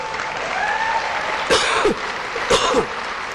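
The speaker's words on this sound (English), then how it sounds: "Give yourself a round of applause." Audience clapping runs throughout, with a couple of short, sharp bursts like coughs or throat clearing cutting through the applause.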